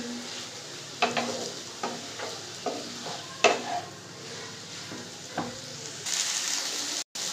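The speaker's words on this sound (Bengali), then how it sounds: "শাকটা আমাদের ভাজা হয়ে যায় মোটে শাকটা হালকা হালকা করে" Note shak leafy greens stir-fry in a pan under a constant low sizzle, with a series of distinct scraping stirs and clinks of a spatula against metal spaced a second or so apart.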